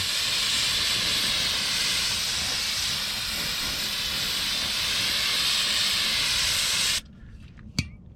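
An aerosol can of cleaner sprays in one long, steady, loud hiss onto the fan clutch of a 454 big block Chevrolet motorhome cooling system, then cuts off, followed by a short knock.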